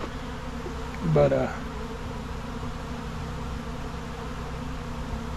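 Wild honey bees from a bee tree buzz in a brief close burst about a second in, over steady outdoor noise, with a faint voice speaking once.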